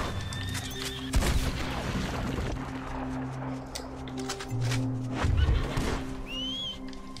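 A horse neighs in a Red Dead Redemption II game scene, with whinnying cries rising over a steady engine-like hum, scattered impacts and thuds, and a faint bird call late on.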